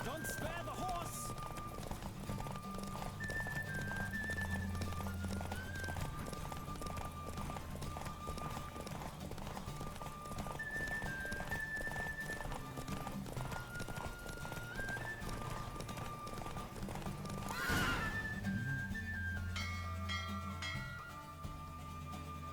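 A horse gallops with fast, continuous clip-clop hoofbeats in The Witcher 3 video game, with a whinny partway through, music and game speech mixed underneath.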